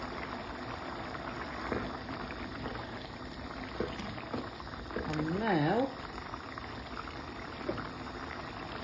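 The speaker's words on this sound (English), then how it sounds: "Bubbling away." A pot of chicken curry bubbles steadily with a continuous simmering hiss and soft pops; a brief voice speaks over it and a short warbling tone rises midway.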